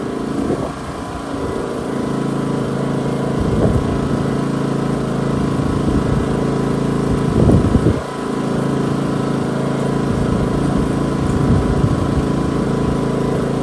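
A Westinghouse iGen 2500 inverter generator runs steadily at a close, constant drone, with a few brief louder surges and faint handling noises over the hum.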